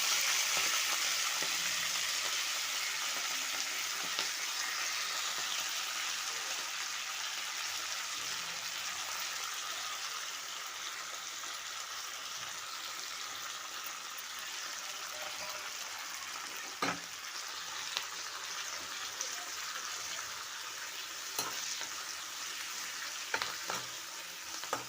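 Fenugreek (methi) leaves fry in a pan with a steady, close sizzle that holds throughout, with a few brief stirring clicks and scrapes near the end.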